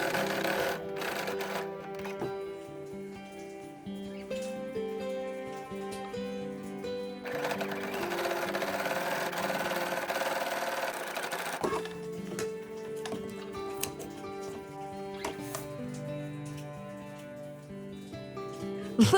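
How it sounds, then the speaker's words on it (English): A sewing machine zigzag-stitches a sleeve cuff in close, steady runs of rapid rhythmic clatter, with a brief pause in the middle before stitching resumes, and no speech. "Sew the cuff in place, then finish the raw edge with the same zigzag stitch."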